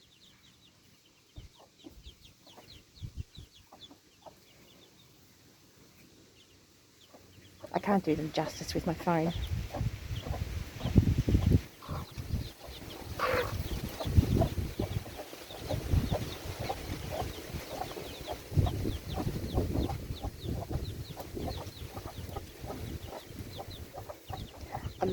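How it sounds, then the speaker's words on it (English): Young chicken chicks cheep and cluck near a broody hen, quiet at first, then a busy stretch of chirping under a person talking. "Honestly, I could sit here and watch these chicks all day."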